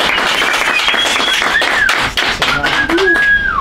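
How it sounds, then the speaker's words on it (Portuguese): Loud audience applause at a live show greets TV presenter Álvaro Garnero, close, crisp clapping from many hands mixed with cheering and whoops over a continuous crowd din. "Uma salva de palmas"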